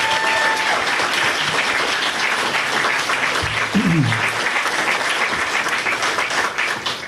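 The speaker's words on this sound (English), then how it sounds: "Let's give them all one more big round of applause." Applause from a live-streamed academy event audience, steady dense clapping throughout with a brief voice cutting in midway and the clapping thinning slightly at the end.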